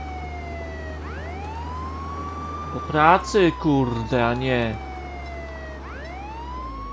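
A police car siren in the video game Contraband Police wails in rising and falling sweeps across the clip, steady under a low engine hum, while someone speaks briefly in the middle.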